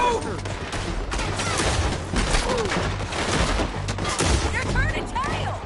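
Heavy, continuous gunfire from many guns in a town shootout in Red Dead Redemption 2, with overlapping cracks and echoes in a dense, loud stretch and voices shouting over the battle.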